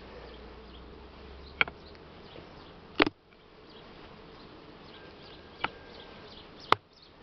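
Honey bees buzzing around a full hive during a honey harvest, a dense continuous hum close by with a few sharp knocks and clicks scattered through it.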